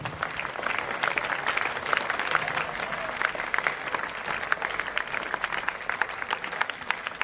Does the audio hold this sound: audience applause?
yes